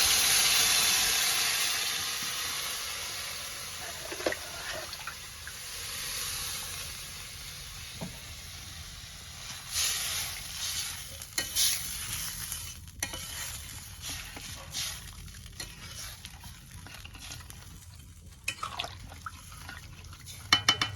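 Water for a snakehead fish curry heats on a stove after the fried spices, giving a soft bubbling hiss with occasional stirring and clinks of utensils against the pot.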